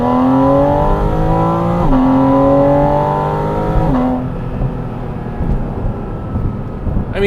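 A 2025 Porsche Spyder RS Weissach drives over a bumpy road, its engine climbing hard through two quick upshifts before the revs ease off into a quieter, rumbling cruise.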